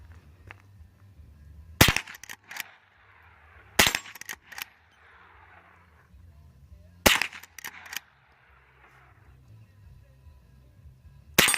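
Sharp, loud gunshots from rifles and pistols such as an AR-15, Sig Sauer and Glock ring out in irregular clusters of quick reports, with quieter gaps and faint background noise between them.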